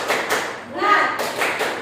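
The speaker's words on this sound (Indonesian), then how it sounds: "Yuk kita tepuk semangat dulu ya sebelum kita mulai ya." A classroom of students claps a rhythmic 'tepuk semangat' cheer before a lesson, sharp bursts of clapping in short patterned groups, with voices chanting along between and over the claps.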